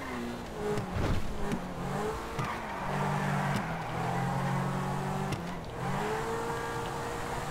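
A Lamborghini Aventador engine revs loud and close, its roar rising and falling over several seconds with sharp crackling transients that could be exhaust pops.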